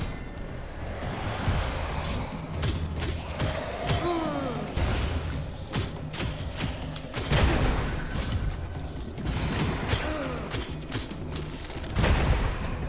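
Enemies blow up in a new zone of the action game Curse of the Dead Gods: several heavy, rumbling explosions burst over a constant roar of game noise, with no voices on top.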